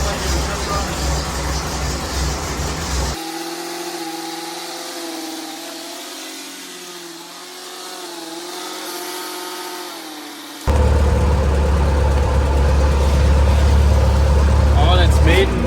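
The engine of a 1922 Dodge Roadster barn find runs after being started, a steady close drone that changes tone partway through and then grows louder and rougher.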